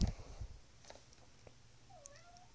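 A cat meows once at close range, a short rising-and-falling cry after a few soft rustles and knocks in a quiet room.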